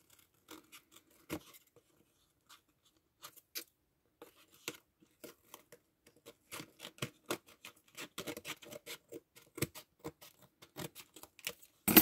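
Scissors trim a few millimetres of overhanging material while making a small craft case, heard as a soft, close, irregular patter of snips and rustles that quickens toward the end.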